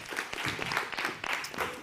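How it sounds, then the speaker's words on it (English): Audience applause at a conference talk during an OECD forum, a dense, steady wash of many hands clapping that fills the room without pause. "Give a warm round of applause for Nicholas."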